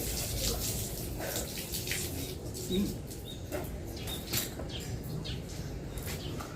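Steady rush of spraying water splashing against a hard surface, continuous and close, with occasional faint drips and knocks.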